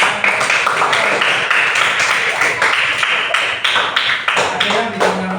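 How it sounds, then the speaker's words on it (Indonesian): Classroom applause from a fifth-grade class, a dense burst of many hands clapping that carries steadily for several seconds, with quick taps and brief dips, and a voice faintly underneath near the end. "Oke, tepuk tangan untuk"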